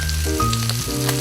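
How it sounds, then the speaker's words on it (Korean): Carrot, green onion and onion stir-frying in a hot pan, a loud close sizzle over a brief moment with no talking. "소리가 들리죠? 팬이 뜨거워졌다는 소리가 들려요."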